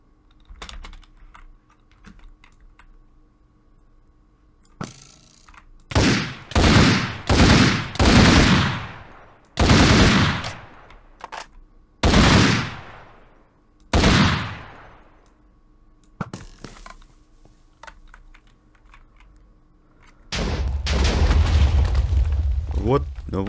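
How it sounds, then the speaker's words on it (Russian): Explosions in the Minecraft video game: a series of separate booming blasts, loud and close, some overlapping in quick succession, followed by a sustained noisy rumble, with game sounds and brief talk. "Вот вам и взрыв, блин."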